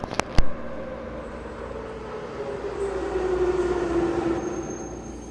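Metro train in the Assassin's Creed III video game, a sustained rolling rumble with a squealing tone that rises and fades, after two sharp clicks at the start.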